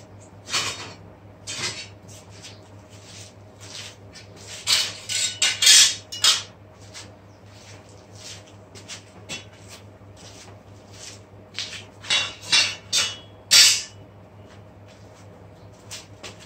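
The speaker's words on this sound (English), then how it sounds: "Start riveting with the pieces." Steel plates of a Maximilian cuirass being assembled for riveting, giving sparse metallic clinks and taps in small clusters, close and moderately loud against a steady low workshop hum, with no talking.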